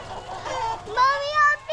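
Roosters and hens at a chicken farm crow and cluck nearby in short rising calls, with a voice mixed in.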